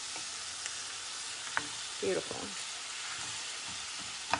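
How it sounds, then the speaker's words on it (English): Beef and cold vegetables fry in a skillet with a steady, dense sizzle and occasional stirring scrapes, while a voice speaks briefly over it. "You notice how the sizzle slowed down because I put the cold vegetables in, but it's going to pick up again"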